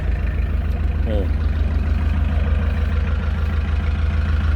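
A used single-cab pickup truck's engine idles close by with a steady, low, even rumble; a brief voice is heard faintly once.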